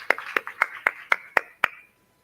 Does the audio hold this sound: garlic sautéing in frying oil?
no